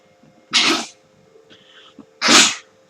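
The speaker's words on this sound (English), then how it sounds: "Never thought I'd actually have to sneeze on camera" Two loud, close sneezes about two seconds apart, each a sharp broadband burst, with a faint high tone lingering between them and no talking.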